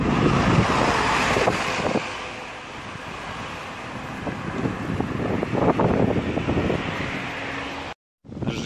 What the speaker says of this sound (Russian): Жесть, какой боковой ветер.